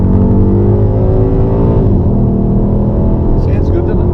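A powerful car engine drones loudly and close by, holding a steady revving pitch throughout.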